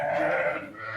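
A single sustained sheep bleat, close and fairly loud, wavering slightly in pitch over about a second with no other sounds around it.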